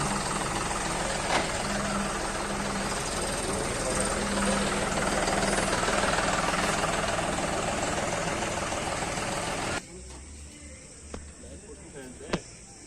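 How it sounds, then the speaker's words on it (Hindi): A John Deere top-model tractor engine roars loudly and steadily as it drives down off a loaded trailer, then drops to a quieter idle near the end. "टॉप मॉडल आ रही है ट्रैक्टर।"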